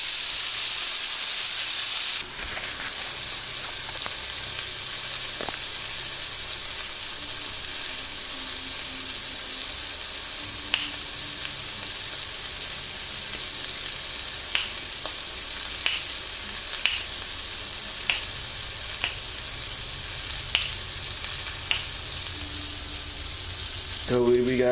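A breakfast pork chop fries in a pan, a steady close sizzle running throughout with scattered sharp pops and crackles, no talk over it.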